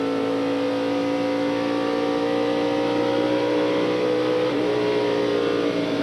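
NASCAR Winston Cup stock cars roaring around Indianapolis Motor Speedway at the 1994 Brickyard 400, a loud, steady engine drone with a slight pitch shift as cars pass, continuous throughout without speech.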